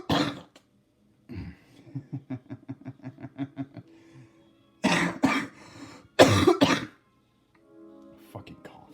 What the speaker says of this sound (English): Fucking cough.